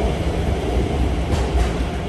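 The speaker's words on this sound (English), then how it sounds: "Now we're heading underground to get the train to terminal 2 and 3" Underground airport shuttle train running to terminals 2 and 3, a steady low rumble of rail cars with faint clatter, continuous and fairly close throughout.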